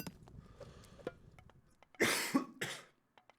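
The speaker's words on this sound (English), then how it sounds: "Sorry for the coughing yet again." A man coughing close to the microphone, a short harsh cluster of two or three coughs after a few quiet clicks, with no speech.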